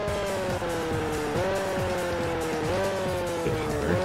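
A race car engine in GT Pro Series on the Wii revs steadily at high pitch, climbing and dipping through gear changes, loud and continuous with no talking.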